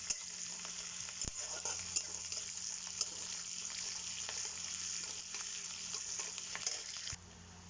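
Onions fry steadily in a pan, a continuous close sizzle and crackle with a few sharp clinks from stirring, then the sound drops to a softer hiss near the end.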